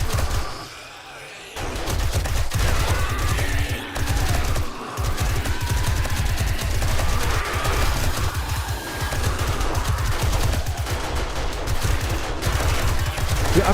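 Dense, continuous gunfire from a zombie survival video game during a horde night, with rapid overlapping shots and automatic bursts running loud and steady throughout, briefly easing near the start.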